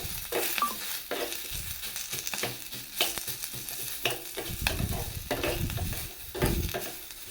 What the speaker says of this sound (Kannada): ನೋಡ್ರಿ ಹೆಂಗೆ ಫ್ರೈ ಆಗಕತ್ತಾವು